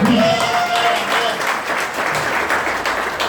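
A church congregation applauding the Lord during a worship service, loud, lively clapping from many hands, with a brief tonal voice or instrument line at the start.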